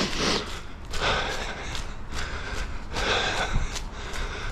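Heavy rhythmic breathing from a runner jogging outdoors in snowy Tokyo, close to the microphone, with repeated strong exhales and inhales over a steady rushing wind and footfall background.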